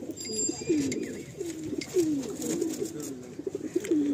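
Madrasi tournament pigeons coo in repeated low, rolling phrases, several birds calling close by in steady succession, with faint background noise and a few brief higher sounds overhead.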